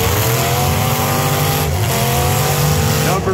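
Demolition derby cars rev their engines and shove one another in an arena, a loud, dense engine roar that stays sustained with brief tire-squeal and impact bursts.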